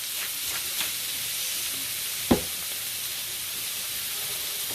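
Onions frying in a pan as they cook down until translucent, giving a steady close sizzle throughout with one brief sharp clink partway through.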